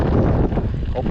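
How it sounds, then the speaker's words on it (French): Wind buffeting the microphone during a cross-country mountain bike race on the Roc d'Opale course near Calais in fog, a steady loud rumbling roar with speech mixed in. "il y a le brouillard, il y a le vent"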